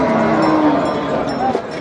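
A young Kannapuram calf at a cattle market gives a loud, close, drawn-out moo lasting nearly two seconds, with faint market bustle around it.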